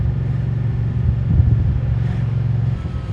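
A 2024 Moto Guzzi Stelvio touring motorcycle rides along with its V-twin engine giving a loud, steady low rumble that swells slightly in the middle, mixed with wind noise.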